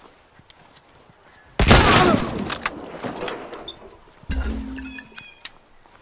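A hunting rifle firing in the video game The Last of Us: two loud, sharp shots a few seconds apart, each followed by a long, rumbling echo that fades slowly against quiet background ambience.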